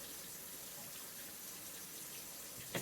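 Kitchen tap running into a pot for a pint of water, a steady faint hiss and splash of flowing water throughout, with a small knock right at the end.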